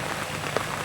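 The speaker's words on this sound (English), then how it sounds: "it started raining here" Rain begins falling outdoors by a pond being drained, a brief, soft, even patter of drops on surfaces with one slightly sharper drop partway through.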